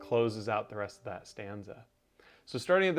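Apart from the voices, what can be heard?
None of the usual background noises is heard.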